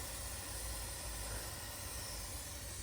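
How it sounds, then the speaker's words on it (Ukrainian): An air hose on a truck's frozen unloading system leaks in winter, giving off a steady, close, unbroken hiss. "Ну ця шлангочка точно шипить."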